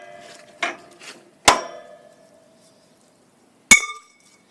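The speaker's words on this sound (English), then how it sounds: "If I only had a hammer, oh, I do." Hammer blows on metal during a Honda generator repair: two light taps, then a loud ringing strike and, after a pause, another sharp clang, each rattling briefly before silence.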